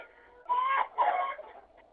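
Chickens cluck in short, bright bursts, two close calls followed by a softer trailing note, fairly near with no talk over them.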